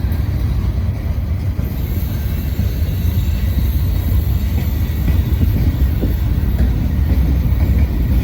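A freight train with side dump cars full of gravel rolls past nearby on a bouncy railroad bridge, giving a loud, continuous low rumble with faint wheel noise and no voices.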